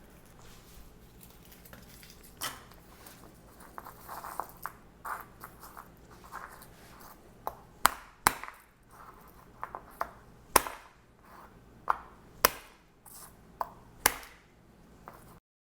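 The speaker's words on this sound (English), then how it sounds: "after taking out some frustrations by smacking the garlic with a knife" A knife smacks and chops garlic cloves on a plastic cutting board, a run of sharp, irregular close knocks that grow sparser and harder toward the end, with no voices.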